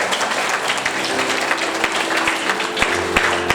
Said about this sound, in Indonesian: Yang bangga tepuk tangan buat Tuhan Yesus.